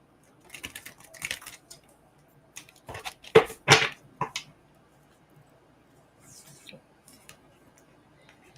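Oracle cards being shuffled by hand, irregular bursts of crisp riffling and tapping, with a louder cluster near the middle and quieter scattered handling after.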